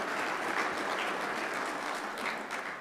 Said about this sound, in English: yeah, that deserves a clap